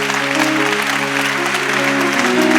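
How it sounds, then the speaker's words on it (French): A church congregation at a revival service applauds and cheers together, a dense, loud wash of clapping that carries on throughout, with sustained voices or music tones running beneath it. "Tu as commencé à applaudir mon Dieu"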